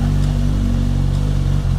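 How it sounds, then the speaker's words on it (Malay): Suzuki Katana 1000, a 2021 motorcycle, idles and revs close up with a loud, steady mechanical drone that dips briefly near the end. "dan motor ni Suzuki Katana"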